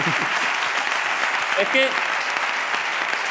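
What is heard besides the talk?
audience applause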